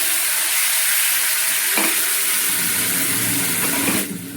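Poppy seed paste dropped into hot oil, giving a loud, steady hiss of frying that fills the whole stretch, with a few soft knocks before the sizzle thins out near the end.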